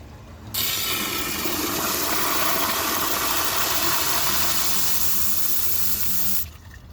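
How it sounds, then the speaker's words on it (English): A 1974 Eljer Sanus low tank toilet flushes into a dry bowl: a sudden loud rush of water runs steadily for about six seconds, then cuts off sharply, close by and with no talking. "let's see how it flushes with a dry bowl."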